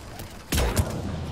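Gunfire in the video game Mass Effect 3 bursts out as a close, loud blast followed by a quick second shot, with a dull rumbling tail trailing off underneath.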